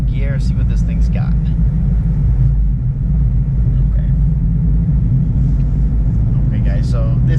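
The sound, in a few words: Chevrolet Camaro ZL1 engine accelerating in second gear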